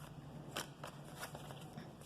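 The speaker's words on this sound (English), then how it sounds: "one more shuffle" Tarot cards riffle in a few quick papery bursts during a shuffle, close and fairly soft, with a steady low hum in the room behind them.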